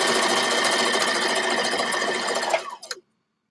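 A sewing machine runs steadily while stitching a dress with a half-inch to 5/8-inch seam, a dense continuous mechanical whir that stops abruptly near the end, followed by a few brief clicks before silence.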